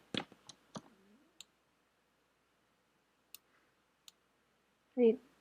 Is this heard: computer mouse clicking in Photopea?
yes